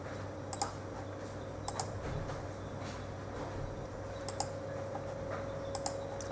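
A computer mouse clicks a few times in crisp, sparse pairs in Excel, set against a steady low electrical hum and faint room noise.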